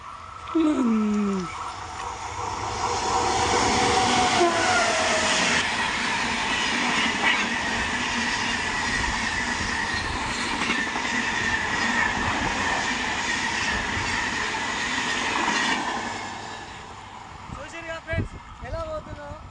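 A train rumbles past a railway level crossing at close range, a long loud roar with clattering wheels, then fades away as voices talk over the last seconds.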